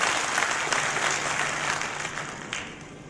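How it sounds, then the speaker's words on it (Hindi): Sustained applause from an audience at a stage event in Indore, a dense even patter of many hands clapping for the full stretch and easing slightly toward the end. "सबके लिए ताली बजा दीजिए एक बार"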